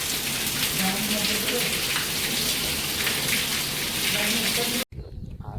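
Steady rain pours down on a peanut field, a loud, dense, continuous patter and hiss that stops abruptly near the end, with some voices briefly audible.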